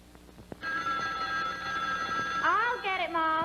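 A telephone bell rings in a 1950s advertisement, a sustained bright metallic ring that starts abruptly and continues, joined near the end by a warbling musical phrase with faint voices underneath.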